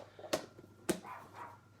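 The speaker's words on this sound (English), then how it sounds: "So sorry about my dogs barking too." Pet dogs bark indoors in the background, two short distant yaps about half a second apart, faint and followed by low room noise.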